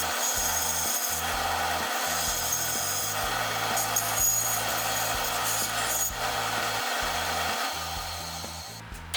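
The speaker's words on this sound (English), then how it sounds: "Then I used a bandsaw to cut on the line left by the compass." A steady, rough sawing noise of a bandsaw cutting through wood, continuous and fairly close, with no voices.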